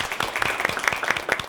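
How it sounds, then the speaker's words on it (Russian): An audience claps in a steady patter of applause at the final of the Tarkhan-2026 Tatar history quiz contest, moderately loud and without talk. "Ваши аплодисменты."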